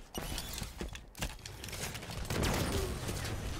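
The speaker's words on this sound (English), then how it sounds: "Those god-awful BR shots" Battle rifle shots in Halo 5 Big Team Battle, rapid bursts of sharp cracking gunfire scattered through a busy, loud game mix of distant fighting, with a voice faintly underneath.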